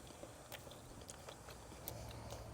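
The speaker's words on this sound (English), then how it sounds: "Crunch from the bread, snappy casings, you taste the pork" Close crunchy chewing of an Argentine asado sandwich of crusty bread and seared pork sausage with snappy casings, a few sharp bites and crackles over a steady background hiss, no talking.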